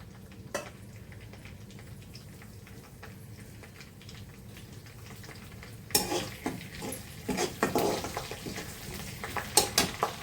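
Cumin seeds and curry leaves hit hot oil in a pan, a soft steady hiss that bursts into loud crackling spatters and pops halfway through, with a few metal clinks and no voices.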